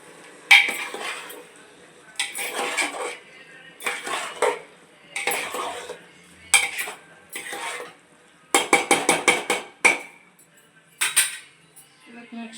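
A spoon scrapes and clatters against a pan while liver curry with tomato is stirred and mixed, coming in repeated loud bursts of metallic scraping separated by short quiet gaps.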